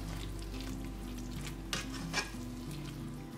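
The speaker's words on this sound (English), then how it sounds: "So now I'm gonna just stir that in." Greek yogurt being stirred into chicken pot pie filling, a soft close mixing with a couple of brief scraping strokes over a constant low hum, quiet and without speech.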